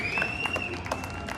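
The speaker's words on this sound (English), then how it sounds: "Everybody give him a round of applause." A crowd applauds at a fireworks expo in Mobile, producing a brief, dense wash of clapping with a thin high whistling tone running through it.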